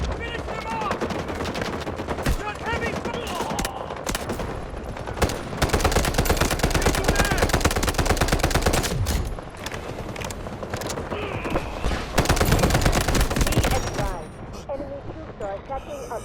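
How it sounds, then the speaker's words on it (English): Heavy automatic gunfire from a large 24v24 Warfare battle in the video game Delta Force, with dense, continuous bursts of rifle and machine-gun fire and louder surges, all under faint radio-style voice chatter. "Finish them off! Got heavy fire!"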